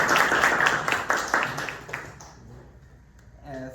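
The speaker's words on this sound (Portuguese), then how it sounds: "posso pedir uma salva de palmas?" Applause from an audience at a presentation fills the opening two seconds with dense clapping, then fades out into near quiet.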